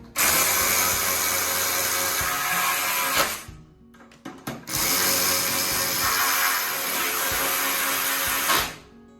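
Power tool driving the end cap fasteners tight on a Chevrolet Tahoe hybrid battery pack during a rebuild: two long, loud, steady whirring runs of about three and four seconds, separated by a short gap with brief stuttering bursts.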